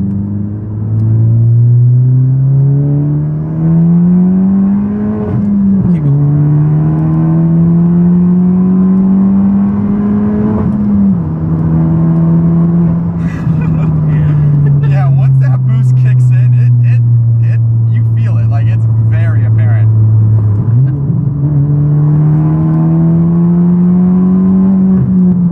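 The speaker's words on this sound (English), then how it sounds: "So let's go and do a second gear pull with the car and see how it feels." A big-turbo Honda Civic Si makes a second-gear pull, its loud engine note climbing steadily with clear gear-change dips, heard from inside the car, with turbo whoosh and brief exclamations from the driver.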